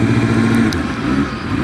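A Suzuki SRAD motorcycle engine drones at a sustained, fairly loud rev with the clutch slipping, a steady mid-pitched hum and a brief faint click partway through.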